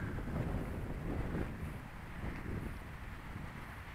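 Wind blows outdoors at an RC model airplane flight, buffeting the microphone with a steady, rumbling roar that surges and eases for several seconds.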